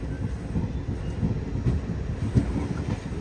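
A new DEMU train pulls out of Secunderabad station on a Siddipet run, a steady close rumble of rolling wheels with faint rhythmic rail clicks and no talk.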